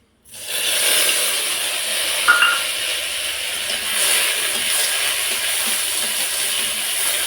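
Ginger and green chili paste frying in hot oil, a steady broad sizzle and hiss that holds close and even throughout, with a brief spike near the middle.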